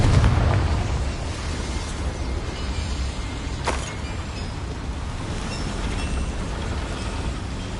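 The Confringo fire spell erupts in Hogwarts Legacy with a loud burst right at the start. It is followed by a steady, roaring wash of blast and fire noise that carries on for several seconds, with a brief crack partway through.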